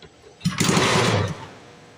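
A 1952 Briggs engine on an Eclipse reel mower, pulled from a scrap pile, runs for about a second: a close, loud, buzzing chug that starts abruptly and then cuts off.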